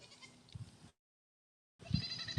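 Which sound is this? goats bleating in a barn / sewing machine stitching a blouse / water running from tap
goats bleating in a barn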